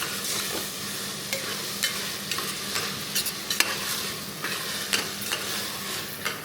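Onion and green chilli thecha frying in a pan for mirchi chi bhaji, a steady bright sizzle broken by repeated scraping clicks of a spoon stirring the mixture.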